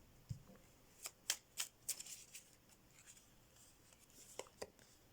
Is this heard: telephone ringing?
no